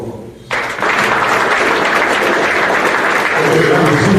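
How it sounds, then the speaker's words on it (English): A banquet audience breaks into sustained applause for their parents after a brief quiet start, a dense steady clapping from a large crowd in a hall. "give your parents a round of applause"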